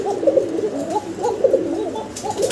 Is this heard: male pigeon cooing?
yes